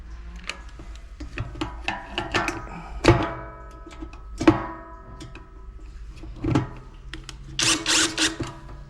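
A screw is tightened into the pedal of a stamping machine stand, giving a run of close metallic clicks, taps and knocks with a few louder thunks and a brief rattling burst near the end.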